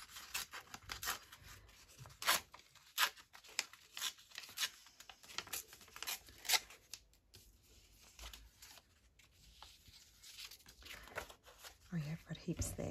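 Paper is torn by hand for a collage art journal in a series of quiet, short ripping and crinkling bursts, spaced irregularly, with soft handling noises between.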